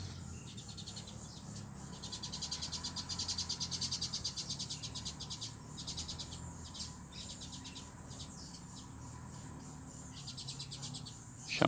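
A double-collared seedeater (coleiro) sings in repeated high, rapid chirping phrases against a steady background of insect or cricket buzz, with bursts of song coming and going at moderate loudness.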